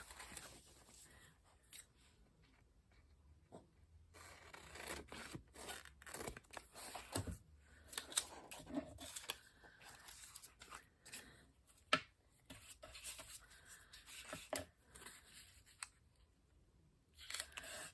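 Scissors trimming a book page for a craft board, quiet scattered snips and paper rustles over several seconds, alone without talk.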